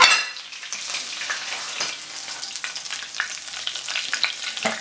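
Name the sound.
Cornish sardines frying in a pan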